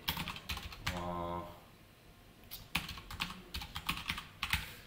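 Someone types code on a computer keyboard, producing bursts of close, crisp key clicks with a short pause partway through, fairly quiet and without speech.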